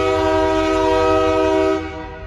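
A train horn blares loud and close as a train with a caboose rolls past, the steady sustained tone holding before tapering off near the end, with no voices.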